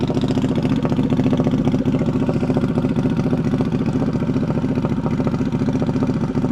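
A 2025 Harley-Davidson Pan America ST motorcycle engine runs steadily close by, a loud, even rumbling idle with rapid firing pulses and no talk over it.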